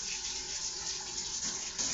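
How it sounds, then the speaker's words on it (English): Tap water runs steadily into a kitchen sink while a potato is washed under it, a continuous close hiss and splash with no talking. "let me wash this potato."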